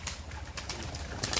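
Domestic pigeons kept for sale coo softly at close range in a short, low murmur with no voices.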